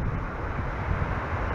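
Breezy coastal wind at Swanage buffets close by in a steady low rumble with gusty roar, no voices.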